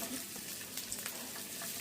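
Steady crackling sizzle of chopped garlic and ginger frying in hot oil in a pan, close and continuous, with small pops throughout.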